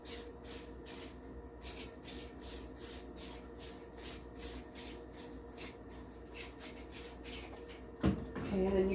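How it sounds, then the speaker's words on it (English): Apple cider vinegar is spritzed from a spray bottle onto baby back ribs in a rapid, steady series of short hissing bursts, close and fairly loud, ending with a brief clunk. "With the apple cider vinegar, I'm just going to spray it down."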